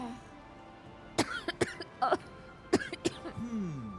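A person coughs in a few harsh, spaced bursts in a video game, close and moderately loud, with brief vocal sounds between them.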